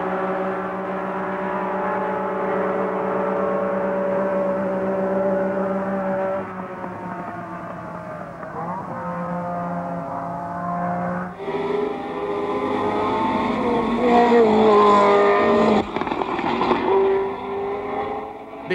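1970 South African Grand Prix Formula One cars racing nose to tail, a sustained high engine howl with shifting pitch as they pass, a second engine note joining loudly partway through.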